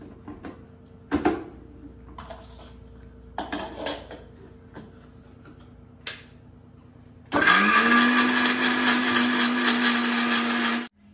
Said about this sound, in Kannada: ಈರುಳ್ಳಿ ಬೆಳ್ಳುಳ್ಳಿನ ಚೆನ್ನಾಗಿ ನುಣ್ಣಗೆ ರುಬ್ಕೋಬೇಕು.